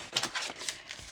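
Tarot cards are shuffled by hand in a few quick riffling bursts, soft, close and papery, with no voices.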